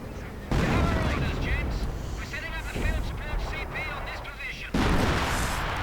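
An artillery barrage in a World War II strategy game booms repeatedly, with heavy blasts and rumbling impacts at intervals over a dense din of battle, while voice lines play underneath.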